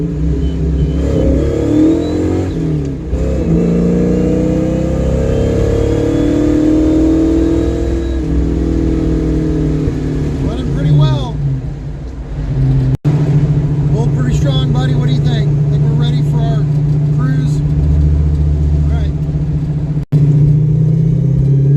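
Carburetor-tuned car engine revving and pulling while driving, a steady loud mid-range drone that rises and falls with acceleration, with people talking over it throughout.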